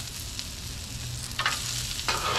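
Potatoes with chopped garlic, black pepper, salt and olive oil sizzle steadily on a flat top grill, a continuous close frying hiss with a couple of brief louder bursts as the food is mixed.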